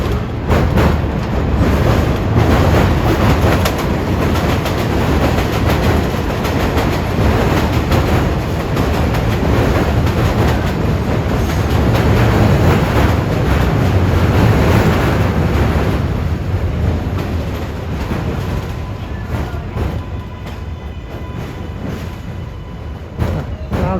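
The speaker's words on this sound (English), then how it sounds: "Sounds like the roof is going to cave in with these trains up above me." A Manhattan-bound NYC 7 subway train rumbles on the elevated tracks directly overhead, a loud, steady, roaring wash of rail noise that holds for the whole stretch with no voices.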